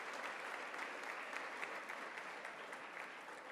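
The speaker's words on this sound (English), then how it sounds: "Please give him a big round of applause" Steady, dense applause from a large audience at a university law summit, filling the space evenly with sustained clapping throughout, no voices standing out.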